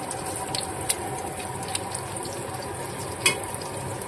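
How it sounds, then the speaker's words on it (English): Pig tails sizzle on a hot plate, a steady low frying hiss with a few soft pops and clicks, close by and with no talk. "I'm cooking on a hot plate right now"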